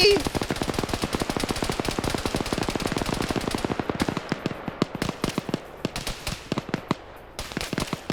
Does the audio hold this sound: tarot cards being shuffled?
no